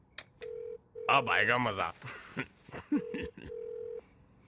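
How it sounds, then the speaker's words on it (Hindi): A telephone rings on speakerphone in a comedy film scene, the repeated steady ring tone breaking into two long bursts while someone speaks excitedly between them. "It's ringing. Speaker speaker."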